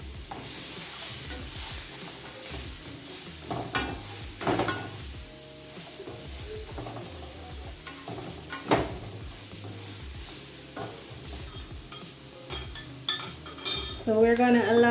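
Green pepper, red pepper and onion sauté in a pan for curried coconut shrimp, giving a steady sizzle broken by scraping stirs and occasional clinks of a utensil against the pan, close and fairly loud, with no talking.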